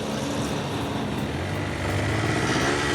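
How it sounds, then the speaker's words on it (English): Two motorbike engines putter and buzz continuously, a rough, steady drone that grows slightly louder toward the end. "I can see 2 motorbikes."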